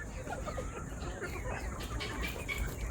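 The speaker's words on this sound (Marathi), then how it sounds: "हा कोंबडा पाहू शकता चॉकलेटी कलरचा" A chocolate-coloured rooster and hens on a poultry farm give soft, scattered clucks, fairly faint under a constant wash of farmyard noise.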